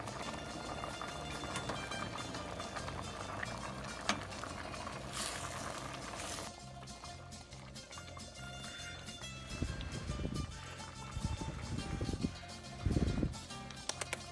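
Liquid boils in a cooking pot with a little oil added, giving a steady, busy bubbling and hissing throughout, with a few louder popping bursts toward the end.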